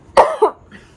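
A single sharp cough bursts out close and loud, followed by a quick second huff, then quiet, all within about a second.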